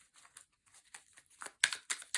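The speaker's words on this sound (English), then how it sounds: "Let me keep shuffling." Quiet, close papery riffling and flicking in quick bursts of tarot cards being shuffled, growing a little louder toward the end.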